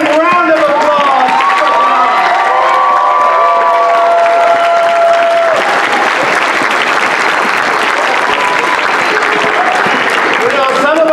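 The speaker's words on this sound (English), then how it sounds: "let the Lord know it by a standing ovation and round of applause." Church congregation gives a standing ovation with loud, sustained applause, cheering and whoops filling the room; voices call out over the clapping throughout.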